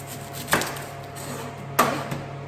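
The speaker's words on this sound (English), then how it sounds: "cut the end of the onion off" A knife cuts the end off an onion on a board, with two sharp, close chopping strikes about a second apart and a fainter tap after the second.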